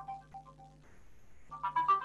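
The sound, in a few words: mobile phone ringtone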